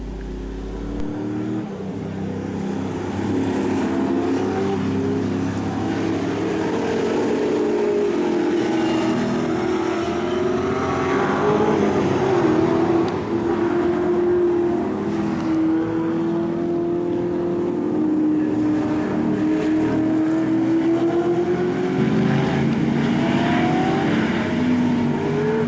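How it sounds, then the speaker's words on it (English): V8 Supercars race cars driving to the grid at Bathurst, a procession of loud V8 engines droning and revving as they pass one after another, building to a dense roar midway and staying strong throughout. "And here they come, the V8s, ready to grid up."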